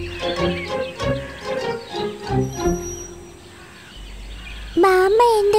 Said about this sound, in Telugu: ఈ కాకుల గోల నేను తట్టుకోలేకపోతున్నాను